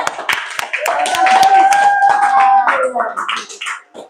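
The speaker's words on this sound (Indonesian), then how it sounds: "terima kasih tepuk tangan buat Keisha" Classmates applaud a student after her presentation in a school group-guidance session, with scattered hand claps mixed into bright, overlapping young voices that fade out toward the end.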